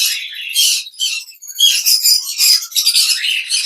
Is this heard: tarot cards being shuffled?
no